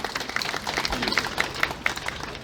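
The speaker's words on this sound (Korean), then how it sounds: "박수로 환영해 주시기 바랍니다." Crowd applause welcoming performers at a reenactment of an 1884 Jeolla provincial office reception ceremony, lively scattered clapping close by with voices mixed in.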